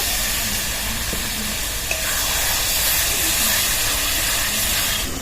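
Spices and chopped tomato with turmeric and salt sizzle loudly in a pan as spice-rinse water is added, a steady dense hiss filling the clip with faint stirring clicks.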